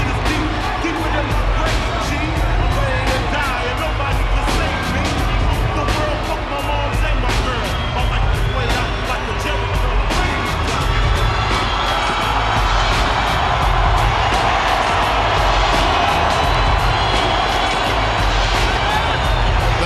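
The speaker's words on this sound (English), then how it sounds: "Crowd response to Jones can only be described as pure ecstasy." A boxing arena crowd roars continuously for Roy Jones Jr. at his third fight against Antonio Tarver, a loud, sustained wash of cheering under a commentator's voice.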